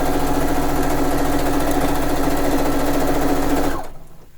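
A sewing machine runs steadily while stitching quilt pieces for a fishing-themed quilt, a loud continuous whirring hum for nearly four seconds before winding down and stopping, with no talking.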